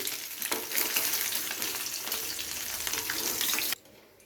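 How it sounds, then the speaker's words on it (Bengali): Eggs browning in hot oil in a pan for egg korma, giving a steady bright sizzle and crackle that runs for several seconds, then cuts off abruptly near the end. "ডিমগুলো ভালো করে ঘুরিয়ে ঘুরিয়ে লাল করে ভেজে নিয়েছি"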